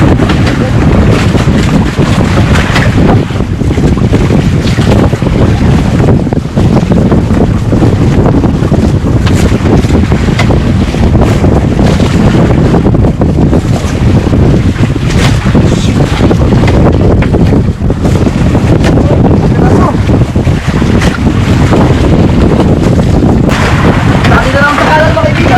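Strong northeast monsoon wind roaring across a boat at sea, constant loud buffeting with wind noise on the microphone and wave wash beneath, voices calling out intermittently.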